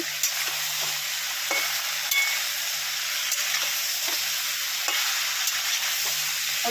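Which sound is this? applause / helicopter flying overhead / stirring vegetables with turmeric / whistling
stirring vegetables with turmeric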